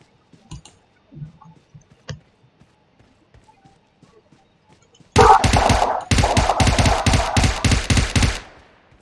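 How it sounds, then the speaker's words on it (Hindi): Video-game gunfire: after several seconds of faint scattered clicks, loud rapid automatic bursts erupt and rattle on for about three seconds with a short break before stopping. "तेरे तरफ गोली चल रहा है।"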